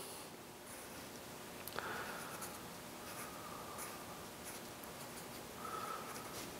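A pencil sketches a lamp for a chalet drawing on paper, making soft continuous scratchy strokes close up, quiet and steady with a few brief sharper marks.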